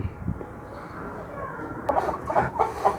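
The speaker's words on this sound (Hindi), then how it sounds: "केज में माशाल्लाह मुर्गियाँ मुर्गे काफ़ी हैं" Hens and roosters cluck inside a poultry cage, scattered close clucks and squawks that grow busier in the second half over a low background murmur.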